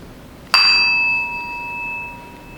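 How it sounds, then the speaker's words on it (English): A single bell struck once at a Montessori graduation ceremony rings out clearly and rings on, its pure tone slowly decaying over two seconds with no voices. "I'm going to ring the bell."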